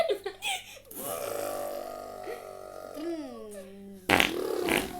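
A long, droning fart imitates an engine being revved, holding and bending its pitch like throttle blips over several seconds, then giving way to loud laughter and excited voices.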